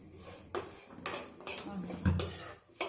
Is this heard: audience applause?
no